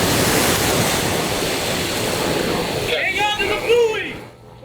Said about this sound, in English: That choppy surf forced them to cling to the pillars below the pier.